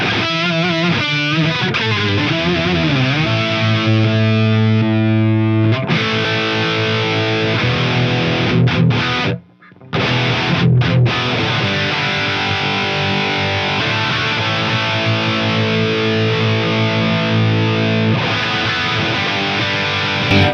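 Sustained electric guitar through an octave pedal and an 808 overdrive pedal, a thick overdriven tone doubled an octave below, playing held notes and slides, with a brief gap near the middle.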